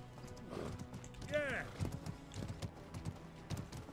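Rapid horse hoofbeats in the video game Mordhau clop along in an uneven galloping rhythm, with a brief horse whinny early on and a voice talking over the top.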